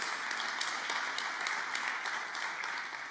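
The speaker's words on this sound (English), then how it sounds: "Give yourselves a big, huge round of applause as well." A church congregation applauds steadily, a dense, fairly quiet wash of many hands clapping with a few sharper claps standing out, continuous throughout.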